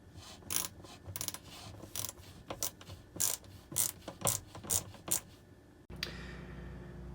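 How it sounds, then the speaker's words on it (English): A small ratchet fitted with a 9/32 bit clicks in quick uneven bursts while loosening a hose clamp on a Turbosmart blow-off valve on a Yamaha FX SVHO watercraft, close and alone, ending in a steady hiss. "what you're going to want to get is a small ratchet with a 9/32 bit on it. That's going to allow you to get in there and get that undone."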